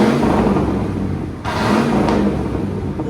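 A car engine runs loud and close after a clogged catalytic converter has been cleared, with a steady throaty roar, a brief dip, and then a strong return.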